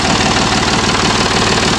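A 1983 tractor engine idles loud and close, a steady throbbing diesel rumble with even mechanical knocking and no other sounds.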